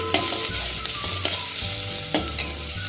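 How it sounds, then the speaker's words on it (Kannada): Small onions frying in oil with mustard seeds in a pan, a steady close sizzle broken by several sharp scraping stirs of a spoon. "ಸಣ್ಣ ಆನಿಯನ್ ಚೆನ್ನಾಗಿ ಫ್ರೈ ಮಾಡ್ಕೊಳ್ಬೇಕು ವೀಕ್ಷಕರೇ."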